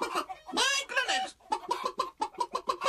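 Hens in a hen house cluck and squawk in quick, uneven bursts, fairly close and loud, with a rapid run of short clucks toward the end and a voice faintly mixed in.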